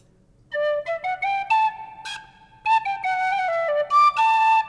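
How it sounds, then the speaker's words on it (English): A penny whistle plays a quick, lilting Celtic fiddle-style run of bright, clear notes with ornamental flicks and reverb, pausing briefly before continuing the lively tune. "try and see if I could do this Celtic fiddle thing on the penny whistle"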